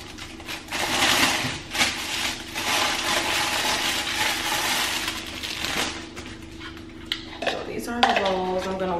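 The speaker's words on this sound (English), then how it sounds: "So this is another package that we're unboxing. Okay, so these are the bowls and they're like nude." New nude-colored bowls from a Temu order being unboxed and handled, with repeated rustling of packaging, clinks and clatters of ceramic bowls knocking together, and someone talking over parts of it.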